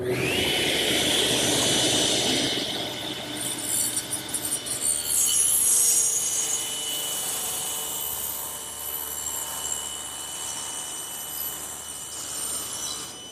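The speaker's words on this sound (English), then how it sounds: "that'll give me a guide to start through the saw blade" A power saw cuts a wooden board for a bookcase in a woodworking shop with a loud rising whine that settles into a sustained drone. The blade then winds down with a fading hum.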